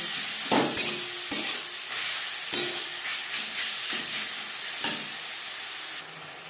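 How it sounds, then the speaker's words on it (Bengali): Marinated chicken stir-fried with onions in a pan for chow mein, giving a steady broadband sizzle with several sharp scraping stir strokes, close and fairly loud, no voices. "পেঁয়াজের সাথে চিকেন বেশ ভালো করে মিক্স করে দেবো।"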